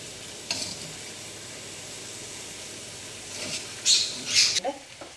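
Egg biryani masala stirred in a pan over a low flame gives a faint, steady sizzle, with a few louder scrapes and clinks near the end.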